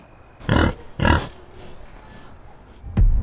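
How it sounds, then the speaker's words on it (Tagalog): Pigs grunting at night in a backyard within an animated horror story, with two strong grunting bursts close together, a quieter stretch, then a third grunt near the end, heard alone without speech. "Meron kasi mga baboy mo dito sa bakuran natin"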